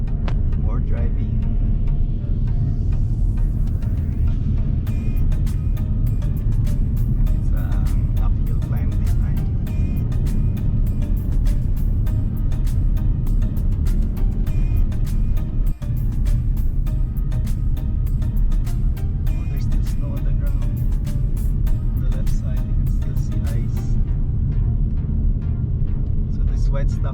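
A car driving on a road through Great Basin National Park, a steady low rumble of engine and tyre noise that carries on without a break while someone talks over it.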